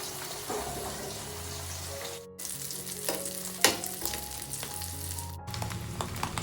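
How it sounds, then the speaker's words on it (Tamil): Fish pieces frying and sizzling in a pan over a medium flame, a steady close crackle with occasional sharper pops and spatters as the fish is turned, no talking. "மீடியம் ஃப்ளேம்ல மீனை திருப்பி வறுக்கணும்."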